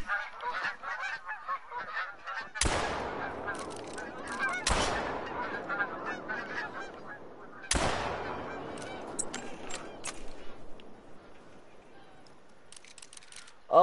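Geese honk loudly and repeatedly in theHunter: Call of the Wild, a dense flock clamoring nearby with several sharp gunshot-like bursts cutting through and some voice in the background.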